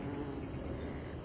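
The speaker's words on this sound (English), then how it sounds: "These bees are friendly. I like it. Nice bees." Bees buzzing in the video game Don't Starve, a steady, even drone that fills the whole moment with no pauses.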